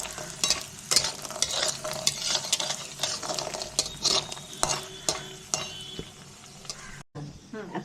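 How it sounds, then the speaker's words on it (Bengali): Lentil bori frying in oil in a pan, a close sizzle broken by repeated scraping and clinking stirs of a spatula against the pan, with a brief pause near the end. "বড়িটা দিলাম, বড়িটা ভেজে তারপরে আলুটা ভাজবো"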